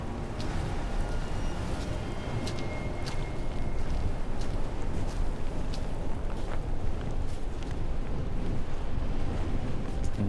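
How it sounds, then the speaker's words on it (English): Steady wind and wave wash in the Amerzone video game, a continuous broadband rush at moderate level with faint sea-like surges throughout and no talk over it. "Windy as well."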